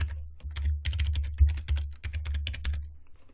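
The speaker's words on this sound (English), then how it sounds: "I'm going to type that password in again." Fast, uneven keystrokes on a computer keyboard as a password is entered, close and fairly quiet, a steady run of clicks for about three seconds with no voices.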